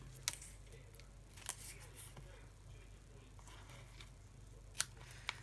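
Scissors trim ribbon for a bow on a handmade card, giving a few sharp, quiet snips spaced seconds apart against a soft background hum.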